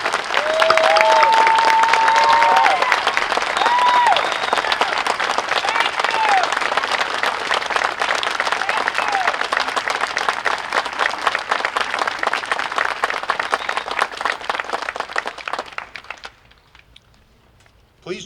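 An audience at a Veterans Day 2015 ceremony at SFSC applauds veterans with loud, sustained clapping and a few cheers and whistles, lasting about fifteen seconds before fading to quiet.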